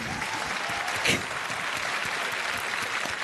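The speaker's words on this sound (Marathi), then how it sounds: "खरंच आपण एकदा प्रियांकासाठी खूप जोरदार टाळ्या वाजवू." A studio audience on a Marathi TV music show applauds for Priyanka, a steady dense burst of clapping from many hands, loud and sustained throughout.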